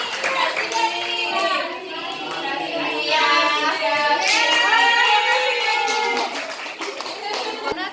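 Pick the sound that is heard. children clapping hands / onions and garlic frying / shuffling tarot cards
children clapping hands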